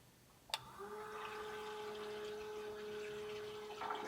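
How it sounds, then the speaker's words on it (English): Water trickles and flows through the cooling system of an S10 truck with a rear-mounted radiator while the engine is off, a steady close hiss and gurgle with a faint tone, preceded by a sharp click. "You can hear water flowing through the engine, but it's not running."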